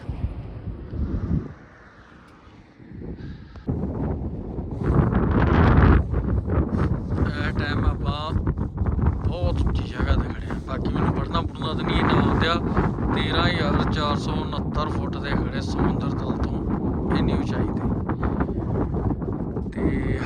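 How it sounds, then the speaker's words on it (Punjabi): Strong, cold wind gusts across the microphone high in snow-capped mountains near Kargil, roaring steadily and loud from about four seconds on, after a brief lull. "ਹਵਾ ਆ ਵੇਖ ਸਕਦੇ ਬਹੁਤ ਤੇਜ਼ ਤੇ ਠੰਡੀ"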